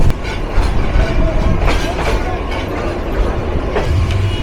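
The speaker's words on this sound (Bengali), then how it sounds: "Joydebpur railway junction through pass করে যাচ্ছে আন্তনগর কুড়িগ্রাম এক্সপ্রেস" Kurigram Express intercity train running through Joydebpur junction, heard from onboard: loud, steady rumble and rattling wheels with rhythmic clacks over the rails.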